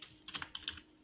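Quiet, close computer keyboard typing: a quick run of several light key clicks entered in a brief burst as an address is typed into a browser on a Linux machine.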